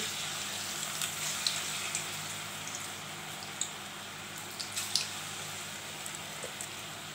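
Maggi pakora batter frying in hot oil, a steady bubbling sizzle with small pops and crackles throughout, fairly close and with no talking.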